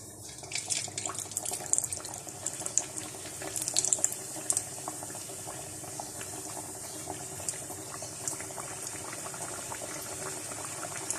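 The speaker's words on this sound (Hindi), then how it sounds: "ऑयल गरम है, अब इसके अंदर मैं कचौरी डालूँगी।" Chicken kachori frying in hot oil, a close, steady sizzle with dense bubbling crackle and small pops that continues throughout.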